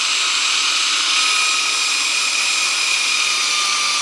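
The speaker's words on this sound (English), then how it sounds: "I'm going to spin it in the drill so you can see how that's pretty nice." A homemade lathe part spins steadily in a power drill, giving a continuous high-pitched whine with a bright hum, constant and close with no pauses.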